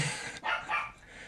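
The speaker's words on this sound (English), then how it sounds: "My dog needs to personally greet... everything that walks by the door." A dog at the door gives two or three quick, faint barks in a row, distant and slightly muffled indoors during a podcast conversation.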